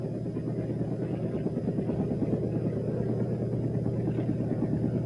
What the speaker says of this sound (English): there was another urgent job for helicopters